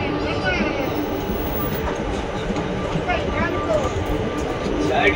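Ratnachal Express pulling into Nidadavolu Junction, a steady rumble of rolling coaches with light squeals and chirps, while a voice talks over it.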